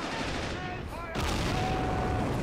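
Machine gun fire in the Men of War strategy game, a continuous, dense rattle of overlapping shots and distant battle noise that swells slightly partway through.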